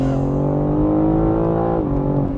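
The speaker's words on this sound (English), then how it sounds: "So here we are, manual mode, quick downshift, so fast." A 2021 BMW M3 Competition engine hums loud and steady in manual mode, then dips and rises in pitch as a quick downshift is made, heard alone without talk.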